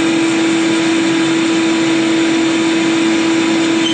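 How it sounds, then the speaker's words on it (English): A bandsaw cutting out a glued-up wooden electric violin body, a loud steady motor whine with a strong constant tone and broadband hiss, running unbroken without variation. "I'm going to go over to the bandsaw and cut this out"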